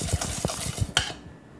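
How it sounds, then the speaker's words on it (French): Egg yolks and sugar being whisked in a bowl give rapid rhythmic scraping and tapping, ending in one brighter clink before the mixing stops. "Vous mélangez bien les jaunes et le sucre."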